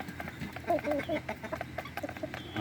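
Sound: hens clucking

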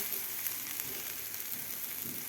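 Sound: spice paste frying in oil for pea cauliflower curry

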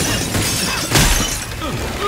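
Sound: glass being smashed in video game Left 4 Dead 2

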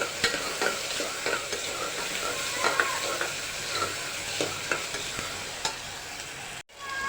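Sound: mixing spring onion leaves, ginger and chilli into frying tomatoes

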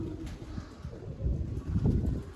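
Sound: pigeons being given feed and water

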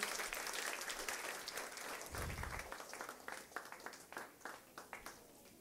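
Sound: congregation applauding

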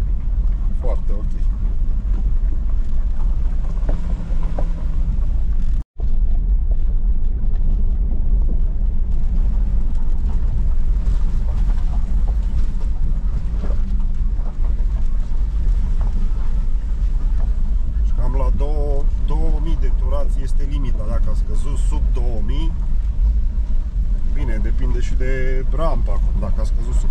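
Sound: Dacia Duster 1.3 4x4 engine driving with hay bales

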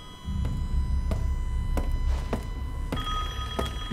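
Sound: telephone ringing in the video game Resident Evil Village

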